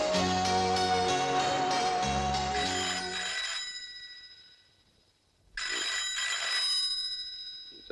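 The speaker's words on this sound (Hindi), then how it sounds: "रात का किसका फोन है?" A telephone rings at night indoors, a loud electronic ringtone that plays for a few seconds, stops briefly, then starts again.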